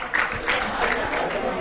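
Football supporters packed on the terraces of a small local stadium applaud a player's dribble, a scattered burst of clapping and crowd noise heard briefly behind a commentator's voice.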